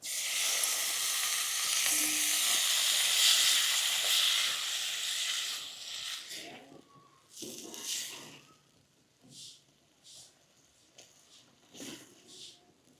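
Boiled chickpeas fry in a pan with chili powder and garam masala, giving a strong steady sizzle that fades into intermittent stirring and scraping sounds.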